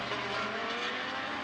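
A Mercedes GT race car in a Blancpain GT Series Asia race at Fuji heads down toward the Dunlop corner with a Ferrari close behind, its engine a loud, steady roar that carries unbroken throughout.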